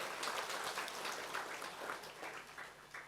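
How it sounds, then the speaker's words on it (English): Scattered audience applause at a product presentation, a faint, fairly distant patter of many hands clapping steadily for about three seconds, with no voices over it. "Can we give Atomy a round of applause,"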